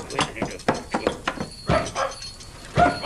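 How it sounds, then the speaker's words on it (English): A cartoon dog character barks and whimpers in a run of short yelps and whines, close and clear, with no talk over it. "It's Bumpy Dog. What a noise he makes."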